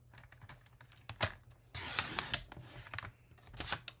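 Sheet of 8.5 by 11 inch cardstock cut on a paper trimmer, a quiet run of clicks and a short scraping slice, close up, with no talking.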